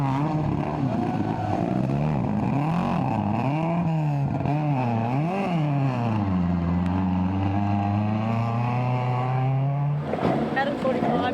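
An underpowered Datsun 180B rally car engine in a junior rally championship, droning loudly and steadily with rising and falling revs through gear changes before a sharp shift near the end, with no speech over it.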